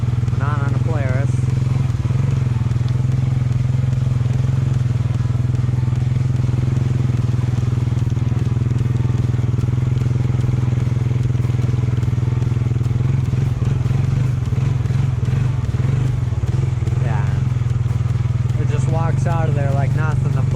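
A Honda 300 4x4 ATV drones steadily while riding through mud, its low engine hum constant and loud, with someone talking over it at intervals.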